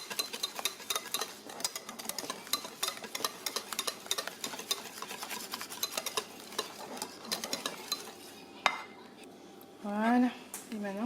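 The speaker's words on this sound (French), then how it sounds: "Donc là vous mélangez bien." A spoon stirs roasted-vegetable meal-prep ingredients in a bowl, making rapid, close, continuous scraping clinks against the dish that pause briefly near the end, where a short voiced sound is heard.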